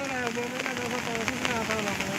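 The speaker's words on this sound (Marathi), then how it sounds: "असा मे महिन्यात पाऊस नाही आठवला आहे ना." A sudden cloudburst in May pours heavy rain in a steady, dense hiss that never lets up. A faint tonal hum or voice-like sound runs underneath.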